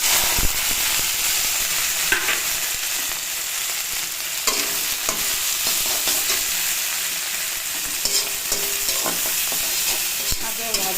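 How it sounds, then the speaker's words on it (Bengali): Fish and chillies frying in hot oil with mustard seeds, a dense, loud, continuous sizzle close by, with occasional clinks and scrapes of a spatula stirring the pan and no voices. "সর্ষে দেওয়ার পরে এবার মাছ আর লঙ্কা দিয়ে দেবো একসঙ্গে"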